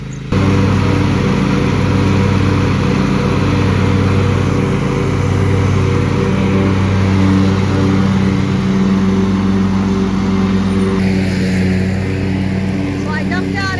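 Lawn mowers drone loudly and steadily at an animal shelter, their engines holding a constant rumbling hum throughout, with a brief shift in tone near the end and people talking in the background.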